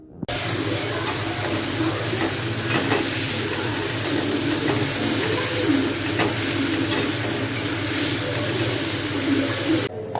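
Aloo chachchari, a potato curry, fries in a pan with a steady sizzle and scattered scraping stirs, and faint birdsong sounds in the background.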